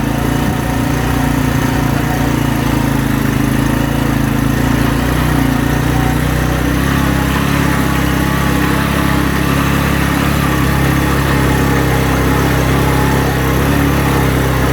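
A motorcycle engine runs steadily at high altitude on the mountain route to Babon Top, a loud close continuous drone with a slight shift midway and no talk over it.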